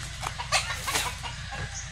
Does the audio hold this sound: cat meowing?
no